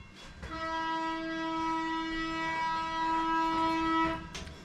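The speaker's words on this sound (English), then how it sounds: "Tiny train, gas powered." A small gas-powered miniature train at a ridable model railroad sounds one long, steady, tonal horn blast lasting several seconds before it cuts off sharply.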